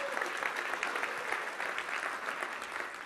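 A roomful of attendees at a hotel marketing meeting claps steadily, a dense and even wash of applause heard from a moderate distance throughout.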